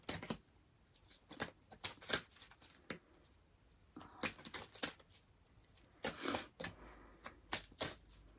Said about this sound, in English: These cards are awful big, making them a little difficult to shuffle like this.